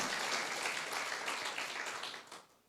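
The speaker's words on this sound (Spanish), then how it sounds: "Dele ese aplauso al Señor" Church congregation applauding in praise during a Spanish-language sermon, a dense, steady wash of clapping that fills the space and then thins and fades toward the end.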